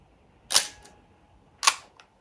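A fairly quiet film SLR camera fires its shutter twice, each release a crisp mechanical clack followed by a softer second click, about a second apart against near silence.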